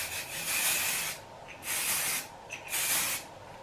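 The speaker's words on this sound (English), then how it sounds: "So I'm gonna really spray this piece before I curl it." Three bursts of hissing hairspray sprayed onto hair before curling, each about a second long, separated by short pauses, close and fairly loud.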